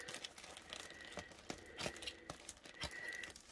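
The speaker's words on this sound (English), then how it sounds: "I am just going to use my snips because I don't want to cut anything inside" Snips cutting open a plastic mail package, with a steady run of crinkling, crunching cuts and rustles repeating every half second or so, close by and moderately quiet.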